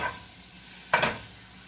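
Crumbled sausage frying in a dry pan with no oil or butter gives a low, steady sizzle, broken by one short scrape of a utensil breaking the meat apart.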